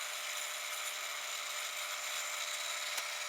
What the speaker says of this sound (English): So let's fire up the drill.